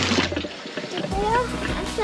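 Water glugs and splashes from a jerry can into a caravan's water tank on an Isuzu NPS 4x4 in the Simpson Desert, a steady pouring rush close by.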